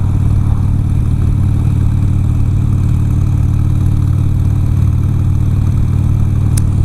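A Harley-Davidson motorcycle engine runs steadily at a low, throbbing idle, loud and close, with a brief faint click near the end.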